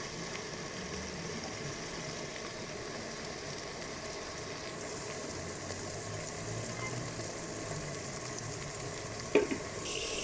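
Chickpea gravy masala fries in a pot while being stirred, giving a continuous close sizzle with soft scraping, and no one talks.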